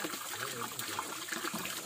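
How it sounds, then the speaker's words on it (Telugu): Spring water pours steadily from a pipe in the Seshachalam hills near Tirumala at Valmiki Theertham, a continuous close splashing flow with a faint murmur of voices in the background. "చూడండి ఎంత చక్కగా వాటర్ వస్తున్నాయి కొండల్లో"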